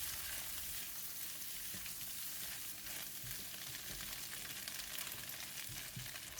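Tofu stir-fry with spring onions, cooked eggs and garlic in oil sizzles continuously in a pan, a dense, even hiss with faint stirring underneath, close by and without speech.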